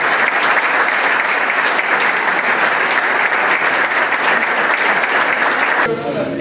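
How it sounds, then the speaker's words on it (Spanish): Loud, dense applause from an audience at an award ceremony fills the hall steadily for several seconds, then cuts off abruptly. "Un aplauso."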